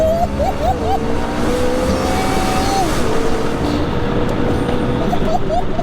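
A 1014 bhp McLaren MP4-12C pulls hard on high boost, its engine note rising in long sweeping pitches through the gears, loud and steady throughout with a brief lift before it climbs again.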